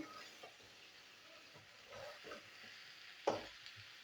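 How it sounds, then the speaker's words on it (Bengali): Ivy gourd (kundri) bhaji fries softly in a pan with salt and light spices, a faint, low sizzle with occasional stirring scrapes and one sharper knock near the end. "তো এখন আমি কুঁদরিটা ভাজবো"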